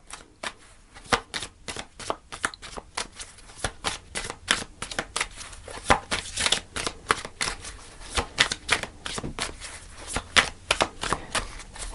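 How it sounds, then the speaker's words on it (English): Tarot cards are shuffled repeatedly up close, a rapid series of crisp riffling snaps and flutters in uneven bursts. "I'll do a couple more shuffles."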